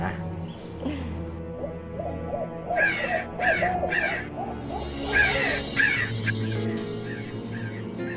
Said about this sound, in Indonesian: Ada suara burung gagak lagi, Pak.